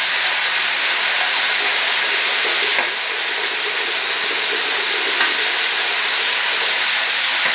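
An electric kettle-style pot holding about 1.7 liters of water heats toward a boil, giving a steady, loud hiss and rushing sizzle that carries evenly from start to finish, with no talking.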